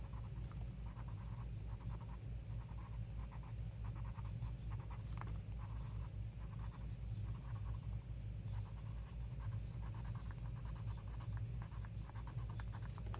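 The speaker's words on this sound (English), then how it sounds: "I'm just going to take my blender pencil and just blend it out a" A blender pencil rubbed over colored pencil on paper in an adult coloring book, giving a quiet, steady scratchy scrubbing in short repeated strokes against a faint low hum.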